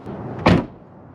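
An Acura NSX door thumps shut as the car is locked, a short solid slam preceded by a faint click, then quiet.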